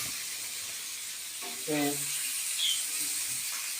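Potato chips sizzle in hot oil in a village home kitchen, a steady close hiss throughout, with a voice speaking briefly over it.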